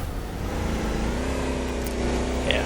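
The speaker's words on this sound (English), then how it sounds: "let's see this time how fast the car is driving" A car engine drives at speed in a Roblox Studio game test, a continuous synthetic motor drone with a faintly rising pitch and a brief swish near the end, with no talk.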